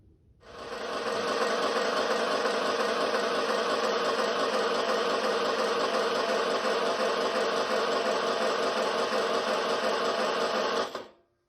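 A revived Ford flathead engine, its oil pan found full of sludge, is cranked over with no break for about ten seconds, a steady even whirring drone that starts and stops abruptly, with no voices.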